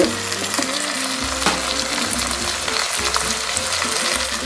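Tomatoes fry in a pan with fennel, a continuous close sizzle with crackles and occasional clinks as they are stirred, with no talk.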